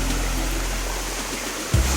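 Lanka Ella waterfall pours in a broad, steady rush of water, loud and near, with a brief thump near the end.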